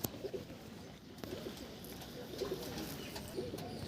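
Desi pigeons brought from Chennai coo softly in a loft, several low throaty coos repeating at intervals over a quiet background.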